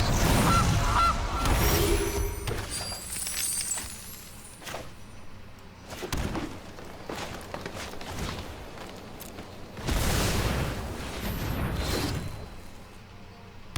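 A cartoonish goose honk effect from the MTG Arena card game sounds in a few loud, brassy bursts separated by quieter stretches of game clatter and sparkly chimes, with no speech.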